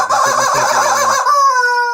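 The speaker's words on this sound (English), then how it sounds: "Chicken." A chicken clucks in a short burst of choppy, stuttering calls that then stretch into a single drawn-out, nasal tone, loud and close with no talking.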